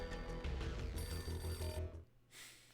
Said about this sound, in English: A beaten-up phone in the entrance hall was ringing